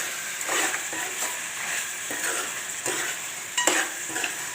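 Chicken curry with garam masala, chopped coriander, salt and spices is stirred in a pan over high flame. A constant close sizzle of frying runs throughout, with repeated scraping stir strokes and a sharper utensil clink near the end.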